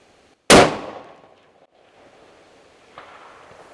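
One sharp, loud rifle shot cracks out during target shooting at long range, then decays into a trailing echo with a faint distant report near the end.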